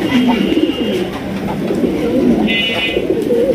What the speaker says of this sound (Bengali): এই জোড়া হলুদ কালারের বোম্বাই কবুতর নিতে পারবেন, একদম বিগ সাইজের